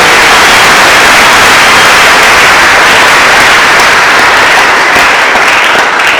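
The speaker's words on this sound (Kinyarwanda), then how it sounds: "Ikomerwe amashyi Imana yawe." Congregation applauding at a gospel church service, a loud, dense and steady wash of clapping from many hands that fills the whole stretch without pause.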